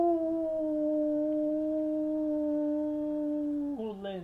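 A single long wolf howl, loud and close, holding a steady wavering pitch for about four seconds before breaking downward into a shorter, rougher yelp at the end, opening a horse racing picks show.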